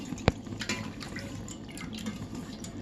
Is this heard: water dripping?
yes